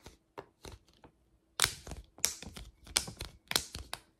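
A thick, durable reusable storage bag seals with a series of crisp clicks, soft at first and then louder and sharper, roughly two per second, close by with no voices.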